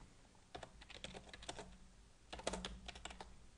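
JavaScript code being typed on a computer keyboard, two quiet bursts of rapid key clicks separated by a short pause, close and alone with no talk.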